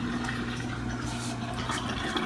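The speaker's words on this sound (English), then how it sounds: "Test number 4 is draining the water test" A Samsung dishwasher in diagnostic mode pumps out its water during a drain test, with the sink gurgling. The sound is a steady rushing, splashing flow over a low, constant pump hum, sustained throughout.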